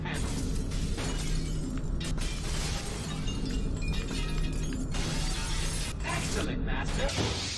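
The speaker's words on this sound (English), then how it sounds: "Now prove your mastery of grip by using the object to smash through these three glass panels." Glass panels shatter one after another as a Force-gripped object is hurled through them in Star Wars: The Force Unleashed, crashing loudly over steady game ambience and music, with a voice speaking at times.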